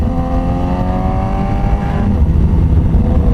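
A BMW HP4 inline-four motorcycle engine revs loud and close, its smooth, steady note climbing in pitch as the throttle opens, with no voices over it.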